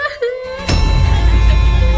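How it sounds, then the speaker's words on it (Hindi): A girl whimpering and crying indoors at night, a short broken wail that cuts off and gives way to a loud, low muffled rumble filling the rest of the moment. "ये रोने की आवाज किसकी आ रही है?"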